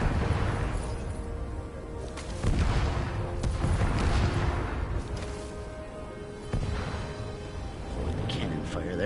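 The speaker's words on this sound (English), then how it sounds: "Cannon fire there." Cannon fire in the action game Stories: The Path of Destinies, heavy booms landing among continuous battle noise, with several strong hits standing out over a dense, loud background.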